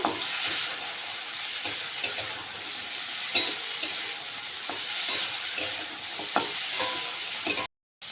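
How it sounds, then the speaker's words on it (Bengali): Cauliflower fries in a pan with turmeric powder and chopped green chili, giving a continuous hissing sizzle close by. Periodic clinks and scrapes of stirring sound through it, and the sound cuts out briefly near the end. "দিয়ে দেবো হলুদ গুঁড়ো এর ভেতরে দিয়ে দেবো কাঁচা লঙ্কা কুচি এবার ভালো করে ভেজে নেব"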